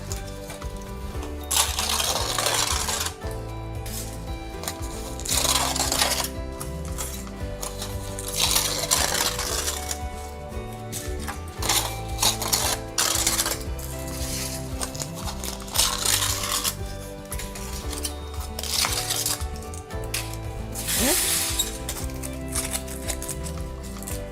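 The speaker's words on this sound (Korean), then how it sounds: "알루미늄 호일을 이렇게 찢으니까 어떻게 느껴지나요?" Aluminum foil is torn and crumpled by hand during an art therapy class, with close, crinkly rustling and sharp tearing bursts that repeat steadily over about twenty seconds.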